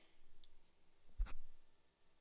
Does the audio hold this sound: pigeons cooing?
no